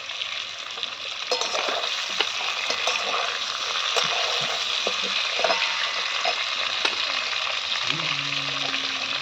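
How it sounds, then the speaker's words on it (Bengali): Green and ripe chillies fry in hot oil in a pan for a pangas fish and potato curry, a steady close crackling sizzle with occasional stirring scrapes. "এবার এর মধ্যে দিয়ে দেবো দুটো কাঁচা পাকা লঙ্কা"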